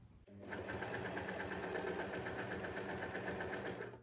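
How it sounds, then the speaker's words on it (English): An overlocker serger runs steadily along a fabric edge for a baby doll mini dress, trimming excess cloth, its fast, even mechanical whir close and continuous after a brief start. "now I'm going to overlock the fabric, just cutting off the excess that I don't need"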